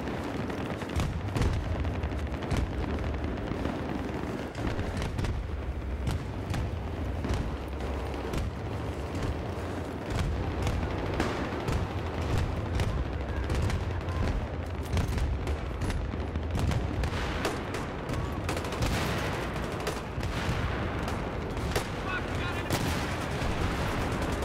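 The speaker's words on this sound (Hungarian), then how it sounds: "basszus, lövöldöznek, mint a süketek." Dense, continuous gunfire and explosions in a Battlefield 3 multiplayer match on the Operation Métro map, loud and crackling throughout with a constant rumbling din and occasional voices beneath.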